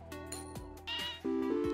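A short run of synthesized cat meows from the video game Luck Be A Landlord, several quick tonal chirps in succession, clear and fairly quiet.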